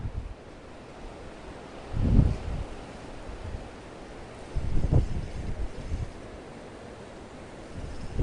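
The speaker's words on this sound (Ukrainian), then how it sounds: "Вітер піднявся досить серйозний." Wind of about 6-7 metres per second buffets the microphone in strong rumbling gusts while fishing, with two big surges and smaller ones between, over a constant low roar.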